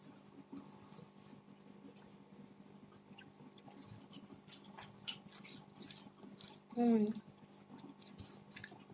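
Close, faint chewing of pumpkin chokha, a spicy home-cooked mash loaded with chilies, soft moist bites repeating steadily across the stretch, with a brief voice-like hum breaking in near the end.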